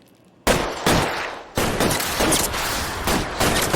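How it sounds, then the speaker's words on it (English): Gunfire in the video game L.A. Noire: a dense volley of sharp, close shots cracks out in quick succession, several overlapping bursts filling the few seconds after a brief quiet start. "Covering fire!"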